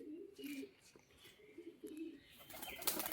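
Pigeons in a loft give soft, faint, rolling coos in short repeated phrases, with quiet rustling and a brief flutter toward the end.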